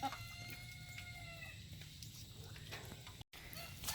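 Chickens clucking softly inside their coop on a rainy day, faint and steady against a wet background hiss, with a brief dropout near the end and no clear speech.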